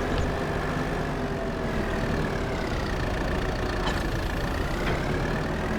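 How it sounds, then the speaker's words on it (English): A small yard shunting tractor idling in Farming Simulator 22, a steady, close mid-pitched engine drone with a faint whine, unchanging throughout. "this is our little shunting tractor for the yard"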